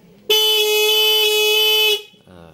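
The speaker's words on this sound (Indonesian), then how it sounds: "Lalu teman-teman tekan klakson" A single loud, steady horn blast from a Honda Beat carburetor scooter, held for about a second and a half, bright and buzzy, then cut off, followed by a brief voice.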